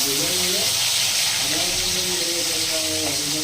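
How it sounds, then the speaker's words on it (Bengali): Cut pieces of hilsa fish frying in hot oil: a dense, steady sizzle close by, with a voice talking over it. "যেহেতু আমরা মাছ কেটে নিয়েছি, তো আমরা তেলের মধ্যে ভেজে নেব"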